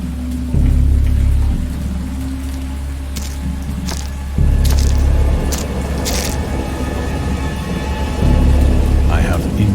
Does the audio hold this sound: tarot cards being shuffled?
no